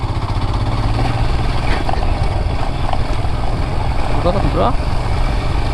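A Royal Enfield Hunter 350 motorcycle is ridden on rough, off-road ground. Its engine gives a steady low thump under wind noise, while someone talks over the ride.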